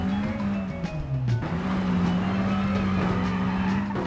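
Stuck car wheels spin and skid in a video game, a steady engine whine with tire squeal running continuously and loudly for several seconds, with no talk over it.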